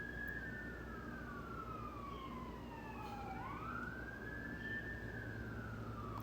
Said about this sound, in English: There's been sirens like crazy around my house.